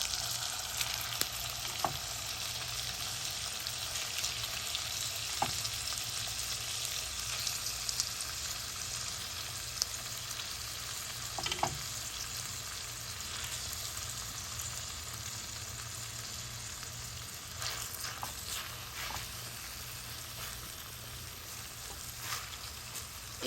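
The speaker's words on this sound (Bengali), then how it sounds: "এবার আমি ঘি দিয়ে ছানাটাকে জাল করে নেব" Chhena frying in ghee in a pan for sondesh gives a steady, close sizzle throughout, with a few sharp clicks and scrapes from occasional stirring.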